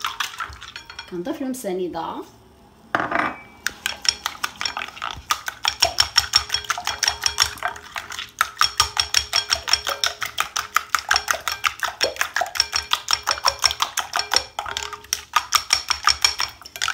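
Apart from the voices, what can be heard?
whisking eggs in a bowl for crêpe batter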